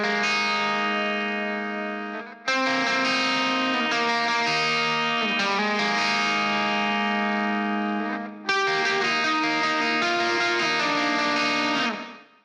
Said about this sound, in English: I'm gonna turn the overdrive off and the reverb on. So this is what the lead guitar is doing in the verse.